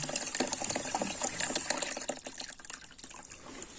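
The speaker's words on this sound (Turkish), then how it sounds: "Berraklaşana kadar su veriyoruz" Water rushing steadily through a home radiator being flushed clean, a continuous splashing, gurgling flow that thins slightly toward the end, close and with no voices.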